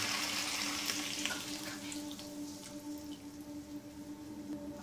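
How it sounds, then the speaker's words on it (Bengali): One cup of milk poured into a pan of cooking shukto, a Bengali mixed-vegetable dish, giving a soft, steady liquid hiss and light sizzle that fades slightly over a few seconds. "এর মধ্যে দিয়ে দেব দুধ, 1 কাপ দুধ"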